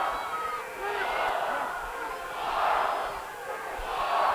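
A large stadium crowd at a Seattle versus Toronto match roars behind the home side, a dense sustained cheer that swells and ebbs in waves.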